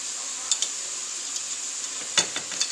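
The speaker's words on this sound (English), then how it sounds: "I've decided to mix this up in the pan before I put it." Fried burger meat and cooked noodles are stirred together in a pan under a steady faint sizzle, with a few soft scrapes and clicks of the utensil against the pan.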